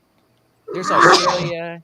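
A single loud sneeze from a person, bursting in after a brief silence and tailing off with a short vocal trail.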